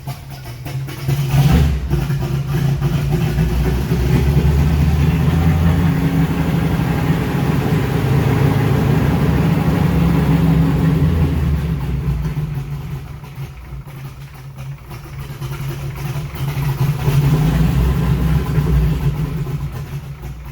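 An airboat engine fitted with a Holley EFI Sniper runs lean at idle, a steady loud low rumble that holds for the whole stretch, sagging slightly midway before swelling again.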